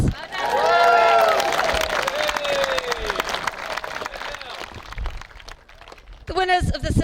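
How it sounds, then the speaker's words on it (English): A crowd applauds bronze medal winners, the under-15 coxed octuple sculls crew from St. Margaret's, at a rowing regatta ceremony. Scattered clapping and cheers run under an announcer's voice and fade before speech resumes. "big round of applause for our bronze medal winners"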